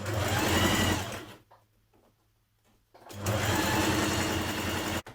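A sewing machine stitches darts in the lining of a Burda 6320 dress. It runs in a loud, steady burst, stops for about a second and a half, then runs again at the same even speed.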